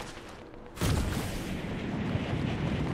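Fortnite gunfire bursts in abruptly after a quiet moment, a loud booming blast that leaves a dense, continuous crackle of distant shots and rumble.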